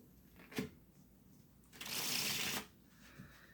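A traditionally cut Fontaine playing card deck, thin crushed stock, being faro shuffled: a brief snap, then a quick riffling burst as the cards interleave, crisp and close in a quiet room.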